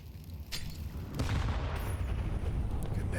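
A grenade goes off in a Counter-Strike match, a muffled boom followed by a rolling rumble and scattered gunfire.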